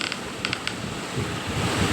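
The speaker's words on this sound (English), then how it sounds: "Oh, a door." A door in the horror game Grandpa and Granny creaks open with a slow, low groaning creak, preceded by a few faint light clicks, close and fairly quiet.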